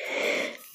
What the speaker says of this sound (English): why is he heavy breathing in the background?